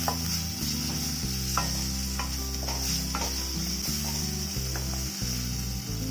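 Chopped small tomato sautéing in masala in a pan for roadside-style kurma gives a soft sizzle with occasional spoon-stir clicks, sitting over a steady low hum.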